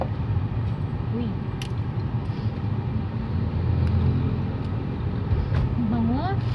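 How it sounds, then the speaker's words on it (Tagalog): The steady low road rumble inside a moving car fills the space throughout, with faint voices murmuring and small clicks and rustles over the constant drone. "Nandito pa naman kami sa kotse."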